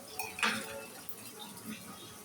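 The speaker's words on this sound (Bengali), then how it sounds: "এই যে একটু নাড়াচাড়া করে দিলাম।" A utensil scrapes and clinks against a pan while chickpea curry is stirred, one sharper clatter early on followed by softer, scattered scrapes, fairly quiet and close with no talk.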